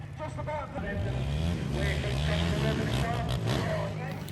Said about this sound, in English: seeing the quads and the motorbikes driving around and then doing stunts such as jumping over the ramps here